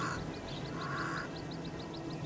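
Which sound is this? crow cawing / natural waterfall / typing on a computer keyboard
crow cawing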